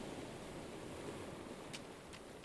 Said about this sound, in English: The waves of Ocean Park crash rhythmically in the distance.